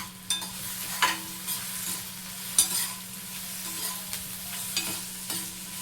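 A spoon stirs ginger and vegetables frying in a pan, producing repeated scraping knocks about once a second over a steady sizzle, close and clear with no talking.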